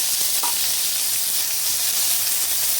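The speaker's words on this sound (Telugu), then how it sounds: "ఇలాగా ఫ్రై చేసుకోవాలండి, ఇది ఆయిల్లోనే మగ్గాలి" Fenugreek leaves sizzle steadily in hot oil for a methi chutney, a dense, even crackling hiss that stays close and constant, with one faint tap near the start and no voices.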